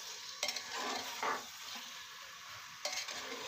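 Meat and spice masala is stirred and fried in a pan, a soft continuous sizzle broken by a few scraping stirs of a spoon against the pot, close and fairly quiet.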